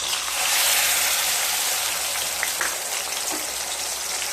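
Half a spoon of ginger paste and tomato paste sizzle steadily in hot oil in a pan, a dense, even crackle and hiss with a few sharper pops. No one speaks.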